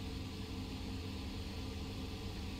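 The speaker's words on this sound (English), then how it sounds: "You can already hear the engine wrapping up." The I.A.R. 80 plane's engine in a VR flight game drones steadily and evenly at moderate volume, a dense broadband roar with no gaps, heard alone.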